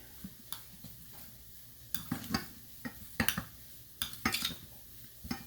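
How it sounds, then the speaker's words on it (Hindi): Food is stirred and mixed in a bowl for a leftover-bread dish: scattered scraping clinks and spoon taps in uneven bursts, moderately faint, with no talking. "इसको मिक्स कर लें"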